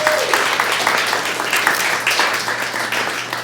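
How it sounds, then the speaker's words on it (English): A live audience at a body language show gives a steady round of applause and clapping, with a faint voice briefly audible under it. "big round of applause for her."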